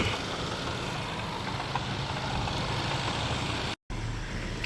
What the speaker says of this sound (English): feel like that's a pulley sound.